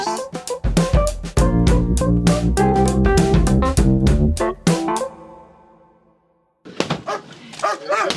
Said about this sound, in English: The reporters and the land defenders heard shouts and police dogs barking outside